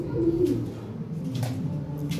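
European Lahore Shirazi pigeons coo softly and close, a low throaty call repeated over a faint background murmur.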